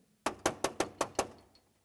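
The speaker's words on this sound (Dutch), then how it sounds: "Ze kloppen al." Six firm raps on a door during a puppet show rehearsal, evenly spaced and near, each with a short hollow decay; no one speaks.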